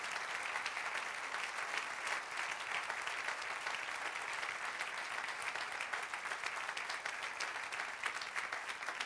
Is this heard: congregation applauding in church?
yes